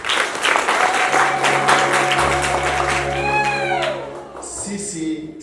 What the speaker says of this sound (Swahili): Naomba tujipigie makofi